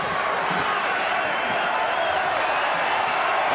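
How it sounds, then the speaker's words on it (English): Arena crowd at the Robins Center cheering on the Richmond Spiders basketball team as they trail VCU in a 1995 game, a steady, dense roar of many voices filling the clip without a break. "And the crowd at the Robins Center cheering the Spiders on as they trail the Rams 56-48."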